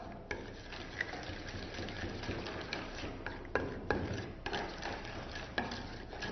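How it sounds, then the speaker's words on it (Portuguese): A spoon stirs and scrapes through a thick mixture of yeast and brown sugar in a bowl, soft wet swirls broken by repeated light clinks against the sides, close and quiet, no voices. "Mexe bem até que se dissolva aí quase por completo o fermento, tá?"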